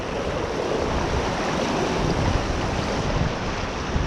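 Ocean surf on the beach at Goolwa, South Australia, washes in and out as a steady, broad roar of breaking water with wind noise, loud and continuous with no voices.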